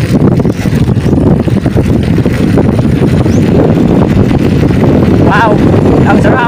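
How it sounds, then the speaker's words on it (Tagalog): Loud, steady wind rushes and buffets against the microphone while riding a bike downhill, with a voice speaking briefly under the roar. "Simoy ng hangin."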